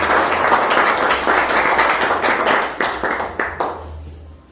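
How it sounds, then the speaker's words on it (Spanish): Enthusiastic applause from a crowd at a church gathering welcomes a speaker, dense and steady clapping that thins into a few last separate claps before fading out. "el cual recibimos con fuertes aplausos"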